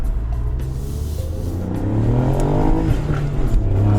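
A custom Ford Fiesta ST MK8 hot hatchback accelerates hard, its engine note rising in pitch as revs climb, loud and close with a steady rumbling drone and no talking over it.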